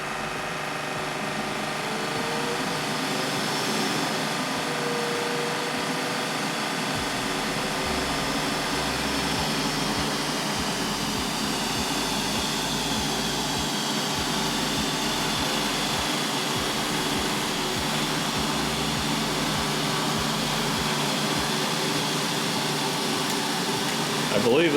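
A Neato D8 LiDAR robot vacuum running in a testing room, a continuous droning whir of motor and suction with a steady hum, moderately loud, while someone talks over it.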